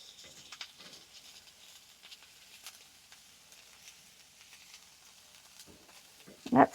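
A steak sears in a skillet with a faint, steady sizzle and crackle throughout, ending in a sudden louder clatter close by.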